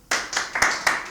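Hands clap about five times in a quick, close, fairly loud sequence, sharp slaps with no talk over them.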